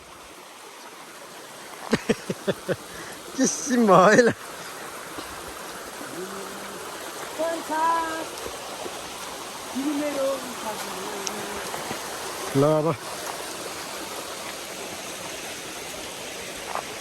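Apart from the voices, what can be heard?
village stream flowing water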